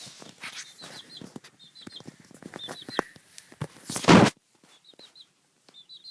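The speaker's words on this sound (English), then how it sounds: "if you're wondering what all the chirping is about" Four baby chicks kept indoors give repeated short, high peeps in quick clusters of three or four, close by, with scattered soft bumps and a brief loud rustling burst midway.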